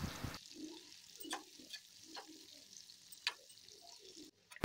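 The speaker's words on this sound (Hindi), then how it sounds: "प्याज को गोल्डन ब्राउन होने तक हम इसे अच्छी तरह से यहाँ पकाएंगे।" Finely chopped onions fry for Rajma Masala in a pan, giving a steady sizzle with soft crackles and occasional brief spatter pops, close and moderately quiet, with no talking.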